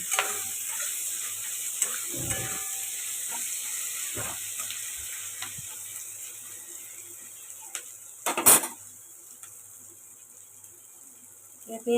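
Sliced onion frying in hot oil in the pan after fried prawns, a steady close sizzle with scattered stirring clatter and a brief louder scrape near the end.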